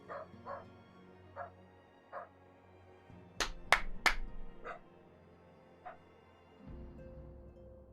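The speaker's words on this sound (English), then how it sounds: "My dogs are barking again." Pet dogs bark in short, separate yips and whimpers, including a cluster of sharp, louder barks in the middle, against a faint background with a low rumble near the end.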